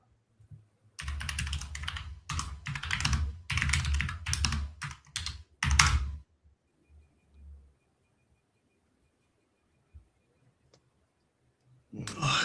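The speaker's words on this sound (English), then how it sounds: "my typing is terrible" Fast bursts of typing on a computer keyboard, with rapid clustered key clicks close to the mic followed by a pause of near silence and a brief restart at the end.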